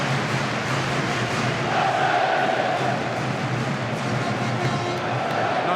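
Large football stadium crowd at a Championship play-off semi-final, Sheffield Wednesday against Brighton with about 34,600 present, giving a steady dense roar of voices throughout with a slight swell midway.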